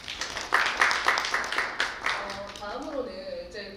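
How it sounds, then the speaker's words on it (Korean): Audience at an international media and information literacy conference session claps in a steady round of applause, several sharp bursts fading out toward the end. "다시 한번 박수 부탁드립니다."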